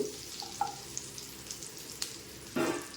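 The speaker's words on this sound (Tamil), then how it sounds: "பட்டர் போட்டு பட்டர் நல்லா உருகட்டும்." Butter melts in a pan for paneer butter masala, giving a soft, close sizzle scattered with small pops and crackles. It ends in a louder spitting burst.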